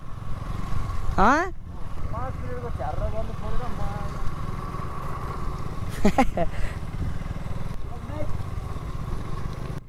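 A motorcycle engine drones steadily throughout, close by, on a ride to Shreekali, with bird chirps and brief voices breaking in over the engine noise.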